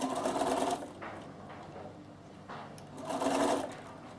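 Bernina sewing machine stitching a seam on a reversible vest, two steady bursts of motor whir and needle clatter with a quieter pause between, fairly close and alone.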